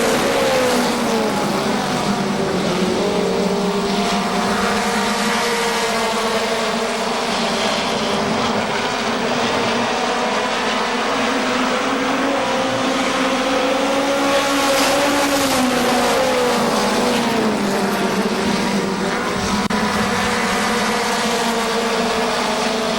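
Legends race cars run a six-lap mini stock race at KilKare Speedway, a loud continuous roar of several engines throttling up and sweeping past, steady and dense throughout with no break.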